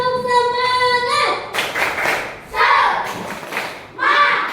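A group of people performs a rhythmic spirit clap in a classroom-style gathering, with bursts of clapping and thumps in patterned groups following a brief stretch of sung or chanted voices.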